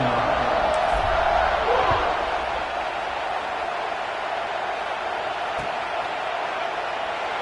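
Stadium crowd at a Nebraska versus Penn State college football game before a kickoff, a steady broad roar that swells slightly early then holds, with a commentator talking over it.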